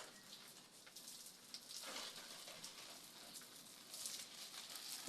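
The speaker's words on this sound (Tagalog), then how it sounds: "Didilig muna ako ng halaman." Water from a hose or can patters steadily onto dry garden plants, a faint spattering hiss that swells and fades as the stream moves.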